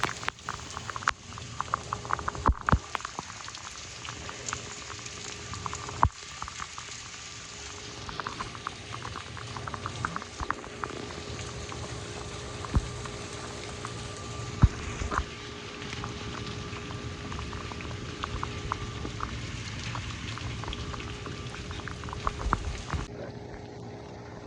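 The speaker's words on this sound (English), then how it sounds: "The rain is stopping. Or slowing down a bit." Steady rain patters and hisses over a tropical storm, a dense continuous wash with scattered louder drips and taps, easing slightly toward the end.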